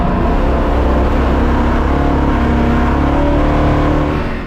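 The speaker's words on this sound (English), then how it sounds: "The car developed a misfire which later turned out to be an HG lead and simply just come loose" A 1965 Ford Mustang race car running with a misfire from a loose HT lead, its engine a loud, continuous rough drone with an uneven, stuttering note throughout, close and alone.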